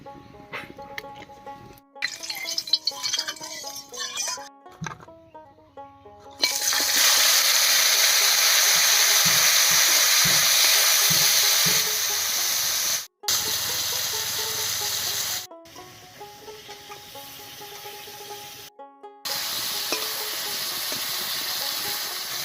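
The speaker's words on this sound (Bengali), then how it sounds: "এবার মাছটা হলুদ লবণ মাখিয়ে হালকা করে ভেজে নিচ্ছি" Fish rubbed with turmeric and salt fries in hot mustard oil in a kadai, a steady loud hiss and sizzle that breaks off briefly a few times and resumes, with faint sounds in the quieter opening.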